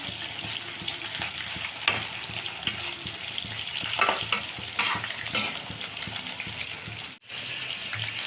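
Garlic kababs frying in a pan: a continuous hiss of hot oil close by, with occasional scrapes and stirring bursts, briefly cutting to near silence before the sizzle resumes; no talking.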